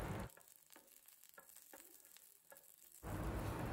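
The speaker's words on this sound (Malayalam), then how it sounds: "അതുകൂടി ഇതിലേക്കിട്ടിട്ട് ചെറുതായിട്ടൊന്ന് വാട്ടിയെടുക്കണം" Six red chillies sautéing in a pan for a spicy Kerala-style chammanthi, a soft steady sizzle with faint stirring clicks, louder bursts at the start and end.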